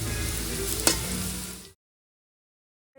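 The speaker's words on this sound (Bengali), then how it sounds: "এখানে আলু কেটে নিয়েছি, এখানে আলু ভাজবো" Cut potatoes frying in hot oil, a steady close sizzle with one sharp pop that stops abruptly after under two seconds, leaving silence.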